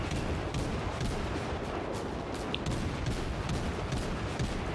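Naval guns on a German tier 3 cruiser firing in World of Warships, a dense muffled rumble of salvos and distant booms that runs steadily through the whole stretch with no talk.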